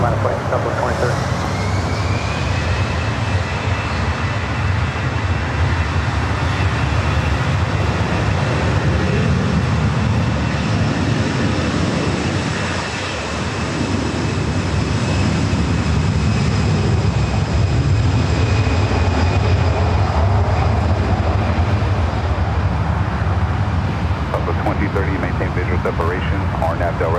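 A Delta airliner taking off from runway 24 left at LAX, with a loud, continuous jet engine roar and a rising whine that swells and carries through, while radio voices talk over it.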